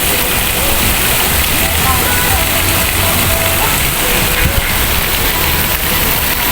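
Water pours steadily in a garden water feature in a rest garden, a dense, continuous splashing rush that fills the whole clip, near and fairly loud.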